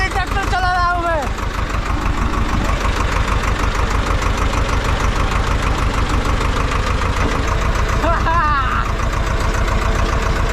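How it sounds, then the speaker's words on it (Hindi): A tractor engine chugs steadily while being driven, with a fast, even knocking beat that stays loud and close throughout. A voice briefly cuts in near the start and again near the end. "भाई सच में चला रहा हूँ मैं ट्रैक्टर।"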